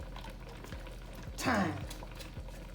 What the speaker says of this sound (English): all I want to do is saute my garlic and my